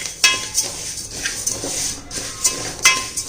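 Roasted Kerala matta rice is shifted into another vessel with a metal ladle. Several sharp clanks and scrapes of metal on metal come at irregular moments over a quiet background, close by, with no talk.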